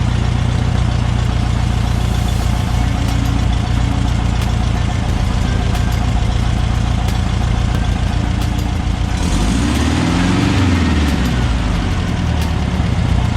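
A freshly rebuilt engine idles smoothly at about 850 rpm after a carburetor adjustment, a loud steady low rumble throughout with a brief shift in tone near the end, no talking.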